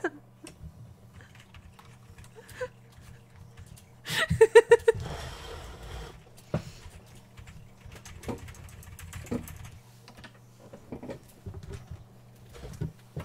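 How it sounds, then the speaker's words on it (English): Computer keys clatter in irregular bursts of taps, with a denser flurry of typing in the middle, close and fairly faint over a low background hum. "typing."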